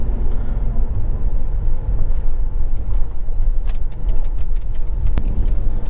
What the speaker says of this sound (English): this thing is still a pretty nice driving car